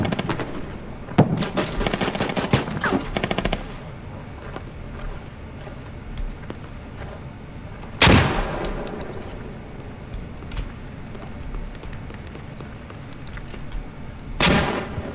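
Automatic gunfire in the military shooter Squad cracks in rapid bursts up close, then falls quiet before two single loud shots ring out several seconds apart against a low ambient hum.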